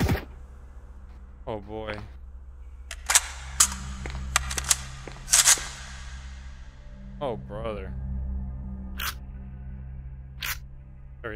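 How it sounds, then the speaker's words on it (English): Loud mechanical clacks and clicks of a gun being reloaded in a VR zombie adventure game ring out in sharp bursts over a low steady rumble, with brief talk in between. "that reload sound is insanely loud"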